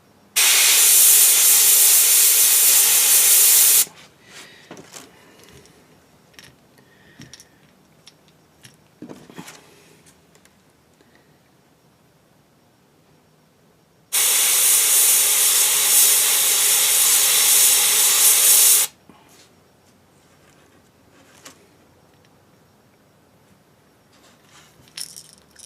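Airbrush spraying paint through a small Mylar circle stencil onto a shad-pattern lure, heard as two steady hissing bursts of several seconds each, separated by quiet handling noises.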